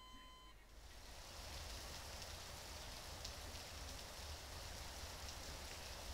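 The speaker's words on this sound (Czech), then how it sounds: "Já vypnu ten déšť, aby to zbytečně nedělalo bordel" Steady, dense rainfall in the Metrostroi train game hisses continuously after a brief quieter start, with no voices.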